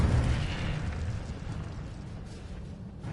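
Incendio fire spell cast in Hogwarts Legacy, with a loud whooshing burst of flame and a deep rumble right at the start that fades steadily over about three seconds.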